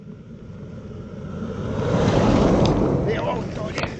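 A truck overtaking a cyclist on a road, its rumble and rushing wind swelling to a peak mid-pass and then fading, heard through heavy wind noise on the microphone.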